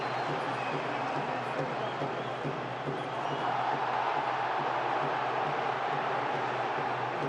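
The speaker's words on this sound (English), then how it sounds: "the crowd is certainly urging on this English team" A rugby league stadium crowd roars and urges on the England side against Australia, a steady, loud wall of cheering and shouting that holds throughout without a break.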